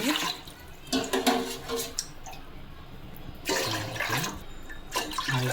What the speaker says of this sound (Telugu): ఇట్లా పద్నాలుగు గ్లాసులు నీళ్ళు పోసుకోవాలండి